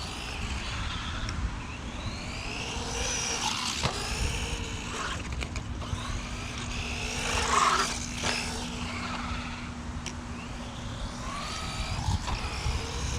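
A 1/14-scale RLAARLO Kraton Sledge mini RC car screeches and whines on and off with rising and falling motor pitch, fairly close, with a steady hum underneath and no talk.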